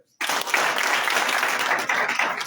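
Graduates of a beneficiary programme burst into applause at a ceremony, a dense, loud round of clapping that starts suddenly and holds steady throughout.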